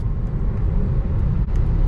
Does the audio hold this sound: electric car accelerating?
yes